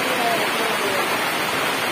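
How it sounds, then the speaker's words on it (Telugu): Rain falling at an outdoor village jatara, a dense, loud and steady hiss of drops with no break across the short stretch. "ఇక్కడ వర్షం పడుతుంది"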